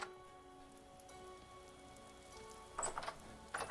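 Steady rain falling in the Vintage Story game world, a continuous soft patter under faint tonal ambience, with a few brighter, louder bursts of drops near the end.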